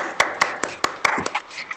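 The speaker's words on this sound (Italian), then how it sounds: "togliere come al solito il muto a tutti quelli che ci sono per dedicarvi un applauso" A few sparse, uneven hand claps from online meeting participants after being unmuted, sharp separate smacks about every fifth of a second, with some low background murmur.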